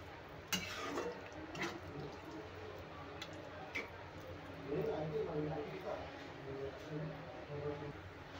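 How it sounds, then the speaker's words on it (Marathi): A glass of water is poured into a pot of green vegetable curry made with two kinds of brinjal, giving a soft, low splashing and gurgling that runs steadily for several seconds with a few light clinks and no voices. "आता परत घालते पाणी आणि हे छान शिजवून घेते."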